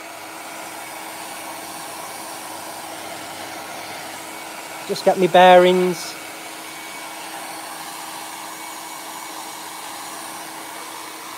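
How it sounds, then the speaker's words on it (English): A steady hair dryer blows throughout, drying sealer on a power-carved wooden wall hanging, with a short spoken remark and some handling noise rising briefly over the constant whoosh. "with the hairdryer"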